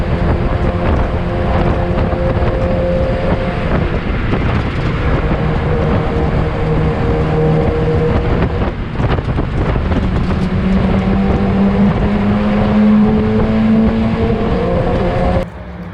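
Mazda race cars launching off the grid at the start of a BRSCC Mazda Championship race at Cadwell Park, several engines roaring loud and close together with rising and shifting tones, heavy wind buffeting throughout.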